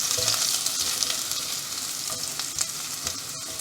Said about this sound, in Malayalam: ഇതൊരു 15 സെക്കൻഡ് ഹൈ ഫ്ലെയിമിൽ ഇങ്ങനെ ഇളക്കി കൊടുക്കാം.